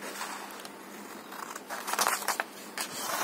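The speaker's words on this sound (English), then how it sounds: "I'll just trim a piece" Scissors trim a small piece of paper for a botanical collage tag, giving brief crisp snips and papery rustles close by, with no talking.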